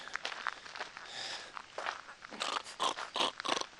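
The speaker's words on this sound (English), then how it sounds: "The dog that snorts like a pig" A dog snorts and snuffles in a piglike way, with a series of short, rough nasal bursts close to the listener alongside faint shuffling movement.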